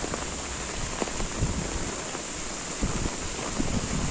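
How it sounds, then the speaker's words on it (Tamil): Heavy storm rain with strong wind on a road in Jaffna, a continuous dense hiss of falling water with gusty low rumbling and scattered drop impacts, steady and close. "பயங்கரமான காற்றுடன் கூடிய மழை வந்து பெய்து கொண்டிருக்கிறது"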